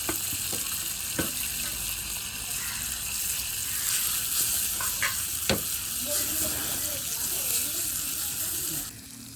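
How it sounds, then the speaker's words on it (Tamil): Mustard seeds, dried chillies and onions frying in hot oil give a steady sizzle with a few sharp spatula clacks and pops, close and continuous before cutting off near the end. "இப்போ கடுகு போடுவோம். கடுகு போடுவோம். வெத்தமிளகாய், வெங்காயம் போடுவோம்"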